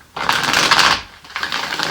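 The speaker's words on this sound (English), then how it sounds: "one last shuffle, and then we're going to go ahead and pull the 5 cards" A quick riffle of tarot cards being shuffled close up, two brief rustling bursts with a short pause between them.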